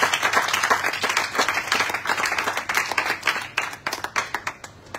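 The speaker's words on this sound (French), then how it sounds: "Est-ce qu'on peut les recevoir par de bonnes acclamations?" An audience at a church gathering claps and applauds loudly for several seconds. The dense, steady clapping thins out toward the end, and no voices stand out.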